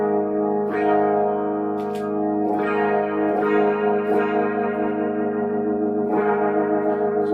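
A sustained organ-like chord is swirled by a Strymon rotary speaker effect pedal, giving a warbling, pulsing shimmer as notes shift and repeat.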